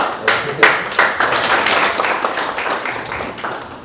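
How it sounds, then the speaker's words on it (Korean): At an anniversary forum of a Korean reunification group, the audience welcomes a speaker with brisk clapping, a few strong accented claps at the start settling into a steady patter that fades slightly toward the end. "먼저 발제를 우리가 뜨거운 박수로 함께 듣겠습니다."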